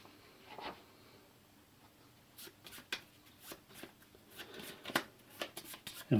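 Trophy cards for The Witcher: Old World board game are shuffled by hand, a soft riffling with repeated crisp flicks and taps that grow busier toward the end, with no talking.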